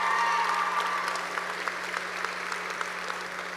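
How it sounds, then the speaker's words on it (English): Applause from a high school graduation ceremony audience for the senior vocalists, loud clapping at first that thins into scattered claps, with a sustained tone lingering underneath. "Let's give another round of applause for our senior vocalists."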